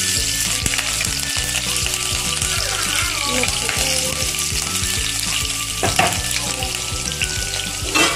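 Cumin seeds and mustard seeds crackle and sizzle in hot oil for a kadhi, with steady frying hiss, scattered pops and clinks of utensils close by.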